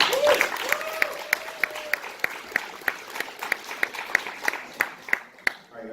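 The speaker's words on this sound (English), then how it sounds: "please give a round of applause for John Odenbrown" Scattered, sparse clapping from a small audience at a university startup launch event, with individual claps standing out over a quiet room and a brief voice near the start.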